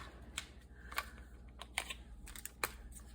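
Cutting material for a craft fold-out pocket: a series of crisp, close snips and clicks at an irregular pace, quiet and alone without talk.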